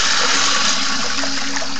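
A toilet flushing after its bowl fill valve was replaced, with loud, steady rushing and gushing water from close by that carries on for the whole moment with no voices.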